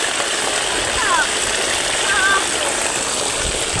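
Water pours steadily from a long row of stone water spouts at a temple in Nepal, a constant close splashing rush with a person talking over it.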